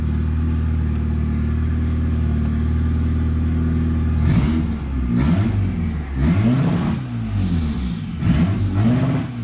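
A boosted F23 Honda Accord engine idles steadily, then is blipped several times in short, sharp revs that climb and fall back, loud and close with no talk.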